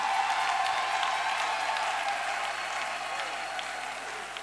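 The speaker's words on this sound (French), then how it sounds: "Applaudissons le Seigneur." A church congregation applauds in a sustained, full round of clapping, a crowd of many hands blending into a continuous wash that fades slightly toward the end.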